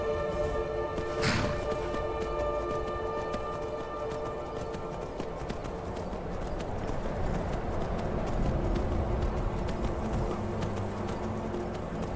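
Horse hooves clip-clopping on the ground in the video game Skyrim, a steady rhythmic patter at moderate distance under a constant buzzing, insect-like ambient bed.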